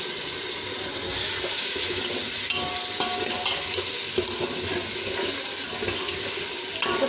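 Chicken masala frying in a pan as a little water is added, giving a steady, loud broadband sizzle with faint stirring scrapes throughout.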